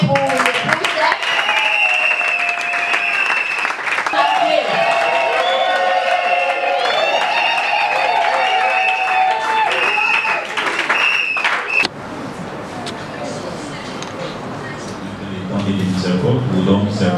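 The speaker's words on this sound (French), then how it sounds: "Oui, applaudissez pour le" A crowd claps and cheers at a wedding vow renewal celebration, with sustained clapping, whistles and whoops over a speaker's voice, followed by a quieter stretch of murmuring and scattered applause.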